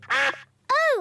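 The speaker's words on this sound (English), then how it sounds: "Oh, it's the ducks." Two loud, close duck quacks from a cartoon garden scene, a short nasal call followed by a brief gap and a second longer, rising-then-falling quack.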